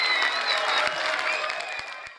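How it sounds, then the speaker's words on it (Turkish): Crowd applause at the opening of a theatre school, a dense, loud wash of clapping hands that runs steadily throughout, with faint cheering or whistling tones threaded through it. "Alkışlar bu kadar mı ya? Bu kadar alkışlar, bu ses mi çıkıyor?"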